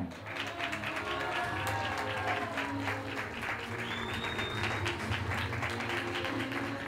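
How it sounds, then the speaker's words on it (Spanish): Outdoor crowd applause at a race finish for a podium finisher at an extreme running event, steady dense clapping lasting several seconds at an even level, with faint crowd noise beneath. "Fuerte aplauso para Francisco Román Rondón."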